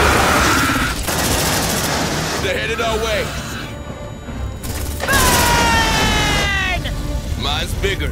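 Gunfire bursts from squad weapons in the sci-fi game Aliens: Dark Descent, mixed with mechanical clatter, shouted voices and background music in a loud, busy firefight.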